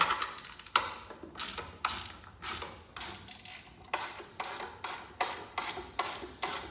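A hand ratchet turns a 3/8 socket in a steady series of close, crisp clicking bursts, roughly two per second, with no talk over it.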